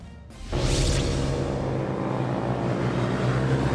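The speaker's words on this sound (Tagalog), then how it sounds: "Nagkarerahan ang mga motorsiklo sa Magalas-Galas Maasim Bypass Road sa San Rafael, Bulacan." Motorcycles race along the Magalas-Galas Maasim Bypass Road in San Rafael, Bulacan, with a loud engine roar that surges in abruptly and holds as a sustained rush of passing vehicles.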